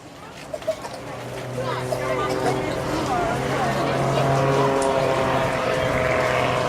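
A propeller aircraft sponsored by MT Propellers, recently modified, flies at the Clacton Air Show, its droning engine building and holding steady at moderate distance while a commentator talks over it.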